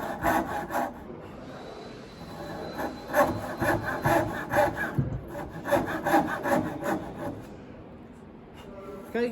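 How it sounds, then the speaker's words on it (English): Hand saw working back and forth through wood while cutting a cross halving joint, a steady run of close, rasping strokes with brief pauses, no talking. "So I've got the saw started now, and I'll work my way back."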